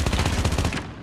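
Rapid automatic gunfire in the mobile shooter Call of Duty Mobile, a dense burst of loud close shots lasting about a second before cutting off.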